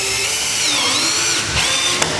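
A power drill drives a screw while line lighting is being installed, whining loudly and steadily throughout with a slight pitch dip near the end.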